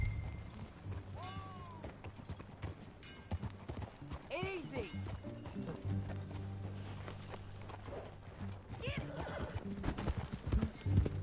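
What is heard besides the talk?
horse hooves clip-clopping in a video game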